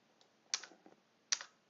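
Two sharp key presses on a computer keyboard, with a couple of fainter taps between them, quiet and close with no talking.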